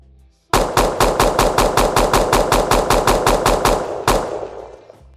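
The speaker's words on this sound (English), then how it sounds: "Sequential shooting mode means we keep pressing the same left mouse button and the pistol fire one after another." Pistols in a video game firing one after another in sequential shooting mode, a rapid, steady burst of about sixteen loud close shots over four seconds, then a final shot and a fading tail.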